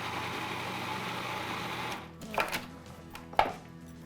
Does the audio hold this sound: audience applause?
no